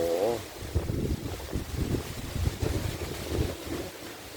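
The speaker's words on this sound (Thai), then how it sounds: "ลมแรงมาก ดูดิครับฟ้า ดำไปหมดนะฮะลมก็แรงครับ" A strong wind blows through a mango orchard under a darkening storm sky, making a steady roar with rumbling gusts against the microphone. No distinct thuds of falling fruit stand out.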